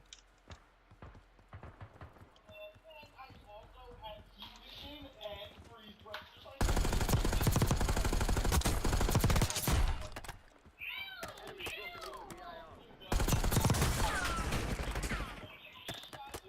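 Bursts of automatic gunfire in Call of Duty Warzone, two long loud volleys of sustained rapid fire separated by quieter stretches with scattered shots and other game sounds.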